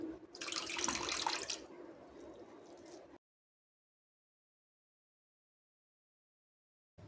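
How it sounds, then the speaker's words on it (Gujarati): Grated potato is lifted out of a bowl of water with a brief splashing and dripping for about three seconds, then silence. "જે બટાકાની છીણ આપણે પાણીની અંદર પાડી રાખી હતી એ આપણે અહીંયા પાણીની અંદરથી લઈ લઈશું"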